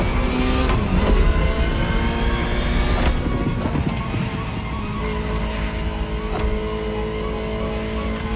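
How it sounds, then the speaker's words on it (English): A high-revving Ferrari supercar engine in the video game The Crew Motorfest screams and shifts through gears, loud and close, with a whining tone and no talking. "Just listen to the car you're driving."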